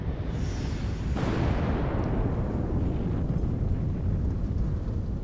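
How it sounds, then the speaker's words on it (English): A deep explosion in the video game Destroy All Humans! blasts out after a second, then a long roaring rumble of debris and noise rolls on steadily without fading. "Oh, look at that explosion."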